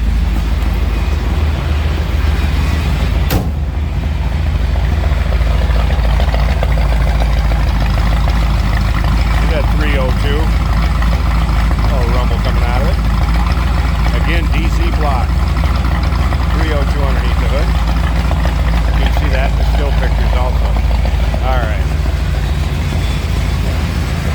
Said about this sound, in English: You can hear a little bark out of that exhaust. Again, chambered exhaust.